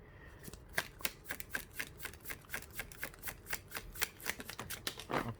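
Tarot cards are riffled and shuffled by hand in a long run of quick, crisp flicks with a brief flurry at the end, close and clear, with no talking.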